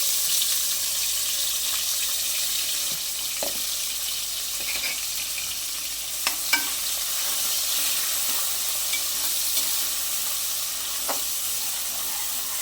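Chopped onions frying in a pan for tomato rice, a steady hissing sizzle with occasional soft scrapes and taps of stirring spread across the stretch.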